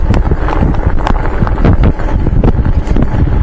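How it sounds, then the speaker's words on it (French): Strong outdoor wind buffets the microphone, producing loud, continuous low rumbling and irregular thumping gusts with no talking. "Il y a un peu de vent quand même"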